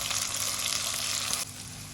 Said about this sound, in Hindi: हल्की आग के ऊपर प्याज लाइट ब्राउन हो रहे हैं।